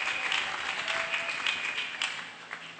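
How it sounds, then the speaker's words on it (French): Church congregation applauding during a service, a steady wash of clapping that fills the whole stretch with small swells and no voices over it. "Acclamons très fort pour celui qui vient."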